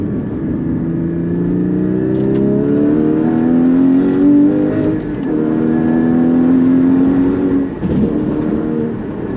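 A 2016 Porsche Cayman GT4 engine pulls hard in fourth gear at mid-throttle, a loud, close, rising growl that climbs steadily, dips briefly and climbs again under constant road and wind noise.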